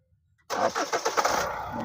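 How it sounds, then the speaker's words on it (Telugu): A 2015 Hyundai Santa Fe 4WD with a heavy engine starts on a single crank after near silence, firing up abruptly with a few pulsing surges before settling into a steady idle. "సింగిల్ సెల్ఫ్ అయితే బండి అయితే స్టార్ట్ అవుతుంది"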